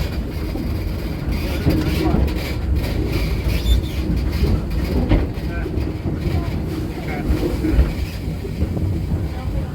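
A heritage train rolls through Greenfield Village, its wheels and cars rumbling low and steady with irregular clacks and thumps throughout, and a voice occasionally audible over the running noise.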